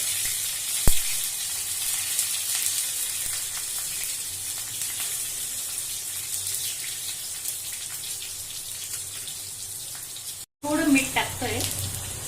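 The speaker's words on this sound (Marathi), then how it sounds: "एक छोटा चमचा जिरे घेतोय आपण जिरे बघा चांगलं फुलत आहे मिरची दोन मिरच्या कट करून घेतल्या" Cumin seeds and chopped green chillies frying in hot oil in a pan for a fasting dhokla, giving a steady close sizzle. A brief gap comes late, then a louder crackling burst as more goes in.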